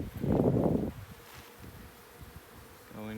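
Bees around an opened beehive at a desert hive removal, with a loud close buzzing swarm in the first second, then a fainter hum and rustle continuing to the end.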